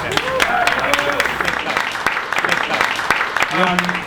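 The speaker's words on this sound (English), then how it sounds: "Good round of applause" An audience at a hackathon event gives a round of applause, a broad crackle of many hands clapping nearby under ongoing talk and crowd voices.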